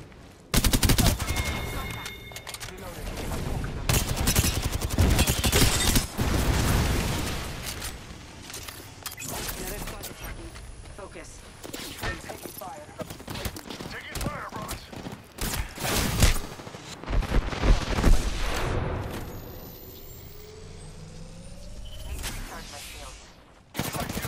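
Rapid bursts of gunfire from a competitive video game shooter match fill the scene, loud and near, with dense automatic fire and scattered single shots that rise and fall, and brief talk mixed in.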